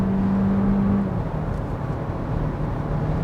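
A 2021 Hyundai Tucson's 1.6-liter turbo engine accelerates with a smooth, steady drone, loud and continuous from inside the cabin, with a faint tonal hum over the first second and no talking.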